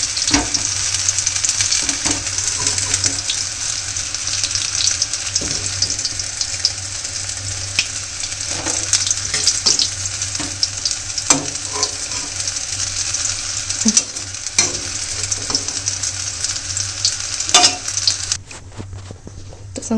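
Badi lentil dumplings fry in hot oil with a loud, continuous crackling sizzle throughout, dotted with occasional stirring clinks and scrapes.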